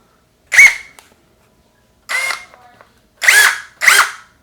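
A Fanttik Rex K2 Apex impact driver runs in four loud, close bursts, each a high whirring whine lasting about half a second, separated by short silences.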